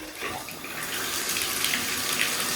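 Water runs steadily from a tap in an old house, a continuous close splashing rush with no pauses and no talk over it.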